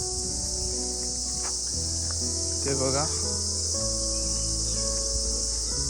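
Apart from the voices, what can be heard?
crickets chirping at dawn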